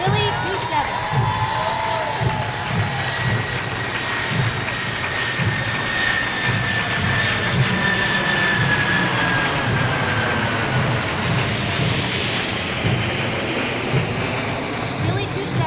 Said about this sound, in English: rendering a flying salute to our graduated airmen is a C-5 Galaxy